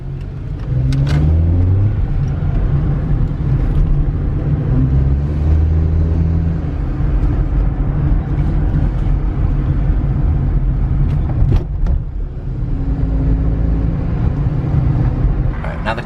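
A Hyundai Accent's engine hums steadily while driving, with shifting engine tones and road rumble throughout, loud and close.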